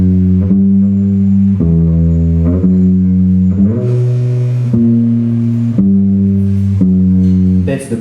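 A bass line on an instrument moves through held low notes that change every second or so, loud and close, with no voices over it.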